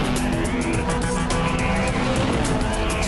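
A Ferrari California with a twin-clutch seven-speed gearbox accelerating hard, a loud, dense engine roar that fills the whole clip steadily and close, with no pauses or gear-change breaks.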